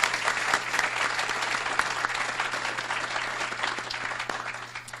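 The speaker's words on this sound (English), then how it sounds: "please join me in a round of applause to thank Larry for his incredible generosity" Sustained applause from a ceremony audience in a university auditorium thanking a donor, dense and steady clapping throughout with a low constant hum underneath.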